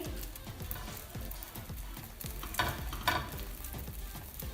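A chicken cheese paratha cooks on a griddle over a low flame, giving a steady soft sizzle with light scraping and handling sounds, two brief louder bursts partway through, and no talking.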